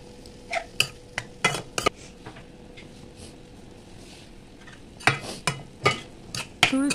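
A spoon stirs oregano, chili flakes and salt into a mini pizza filling in a pan, with bursts of quick metallic clinks and scrapes separated by a quieter pause, close and fairly soft.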